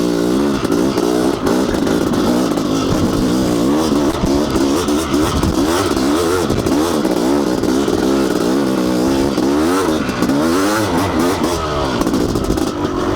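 A Honda CR500 two-stroke dirt bike engine on an enduro single track, loud and close, throbbing under light throttle with a steady rough rhythm and small surges, no voices.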